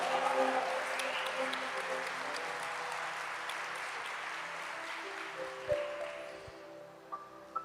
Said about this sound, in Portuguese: Será que você pode aplaudir ao Senhor aí, casados?